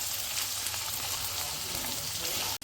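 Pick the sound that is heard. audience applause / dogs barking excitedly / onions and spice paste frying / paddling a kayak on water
onions and spice paste frying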